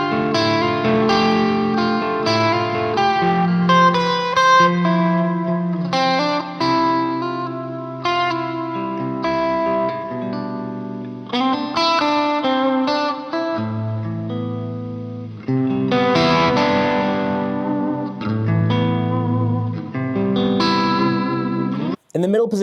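Overdriven electric guitar on the middle pickup position playing chords and melodic phrases steadily, bright and full, continuous with short breaks near the end.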